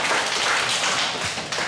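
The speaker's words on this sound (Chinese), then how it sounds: "我们再次掌声。 欢迎我们的陈讲师。" An audience at a seminar class claps to welcome a lecturer, giving a brief burst of dense, fairly close applause with scattered sharper claps.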